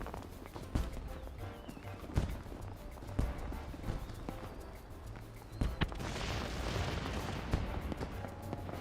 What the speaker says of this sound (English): Oh, the fireworks are starting again.